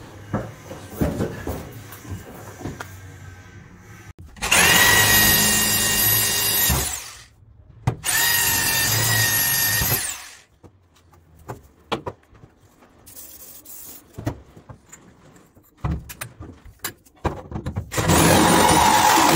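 A power drill bores holes for cable glands during cable jointing work, with several loud, sustained whirring bursts of a few seconds each, separated by quieter gaps and clattering handling noises.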